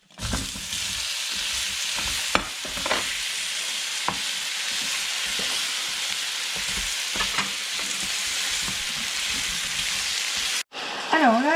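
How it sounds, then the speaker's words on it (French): Apples caramelize with brown sugar in a pan, a loud continuous sizzle broken by a few sharp clacks from stirring, ending in a short, different-sounding burst. "Alors là, les pommes, elles sont bien caramélisées"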